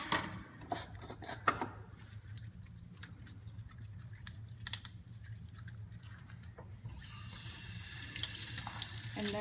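Printmaking roller being washed of ink and soap under a running tap, with a steady faint splash of water and occasional small knocks and scrapes, quiet and close with no talk.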